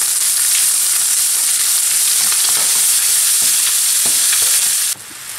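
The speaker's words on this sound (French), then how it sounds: "Alors je rajoute la crème par-dessus" Liquid cream goes over deer lardons already browning in a hot pan, giving a loud, dense, even sizzle that drops away sharply near the end, with no talking.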